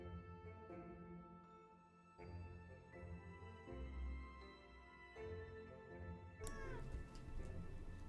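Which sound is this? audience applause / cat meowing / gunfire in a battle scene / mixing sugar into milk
cat meowing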